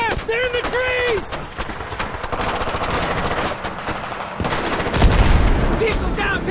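Sustained automatic gunfire during an ambush in Battlefield 3, rapid machine-gun bursts and rattling shots filling several seconds, ending in a heavier booming impact, with shouted voices over the firefight.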